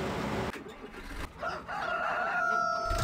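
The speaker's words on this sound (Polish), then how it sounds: "Kury, jak tam kury." Chickens in a Farming Simulator 2013 farmyard cluck and crow, with a drawn-out rooster call in the latter half over steady game ambience and engine hum.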